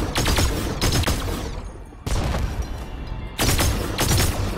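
Loud, dense bursts of video game gunfire rattle in rapid volleys with booming reports, separated by two short breaks, close and continuous with no talking over them.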